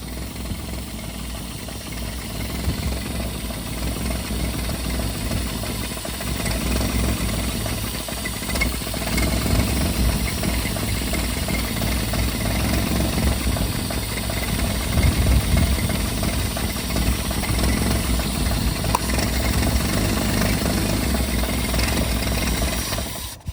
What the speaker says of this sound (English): Listen to her idle.